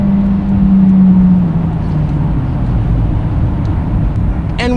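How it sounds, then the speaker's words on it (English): A steady engine drone from inside a 2023 Acura Integra A-Spec with 6-speed manual, a low hum that holds evenly throughout, with a brief higher-pitched sound near the end. "one thing that we all noticed was the sound of the engine. It sounds beautiful."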